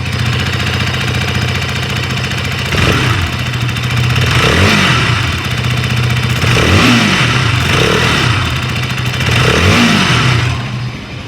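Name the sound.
motorcycle engine idling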